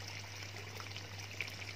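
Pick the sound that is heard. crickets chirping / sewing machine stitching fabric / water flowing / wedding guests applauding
water flowing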